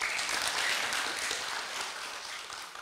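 An audience at a religious gathering in a prayer hall claps in a sustained, fairly even burst of applause, with no talk over it, easing off a little near the close.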